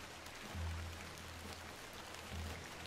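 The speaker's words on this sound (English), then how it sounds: "Let's get out of the rain." Steady rain hisses over the whole scene in the adventure game The Excavation of Hob's Barrow, a soft continuous wash with low rumbling swells, heard alone without talk.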